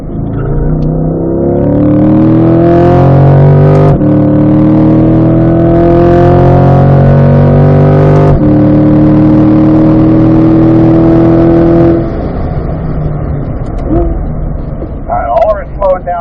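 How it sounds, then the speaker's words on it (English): A race car accelerates hard along the right edge of a track during a performance driving school session. The engine whine rises steadily in pitch through several gear changes, loud and continuous, then eases off near the end. "hard acceleration along the right-hand edge of the track"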